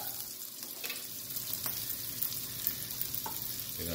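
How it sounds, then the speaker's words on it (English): Ginger and garlic sizzle steadily in butter in a cast-iron pan for a venison stir-fry, with a constant hiss of frying and soft scraping stir strokes close by. "Stir until aromatic. Make sure not burn the butter or the ginger and garlic, okay?"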